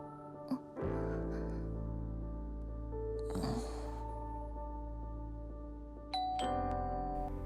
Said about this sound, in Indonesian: Tiba-tiba bel berbunyi.